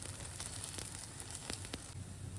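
Thalipeeth flatbread fries on its second side in a pan, giving a faint, steady sizzling hiss with a few small crackles and pops throughout.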